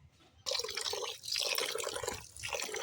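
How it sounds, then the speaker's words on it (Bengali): Rice is rinsed in water for a chicken dish. Swishing and trickling water splashes come in close, uneven surges with short quiet gaps between them. "চালটা দেখো আমি তিন চারবার করে একটু কষলে কষলে ধুয়ে নিচ্ছি"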